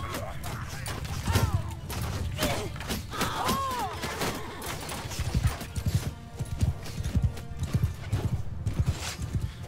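Horses gallop in Mount & Blade II: Bannerlord, their hooves thudding in rapid, uneven clusters alongside several whinnies and neighs, with clanking battle noise mixed underneath.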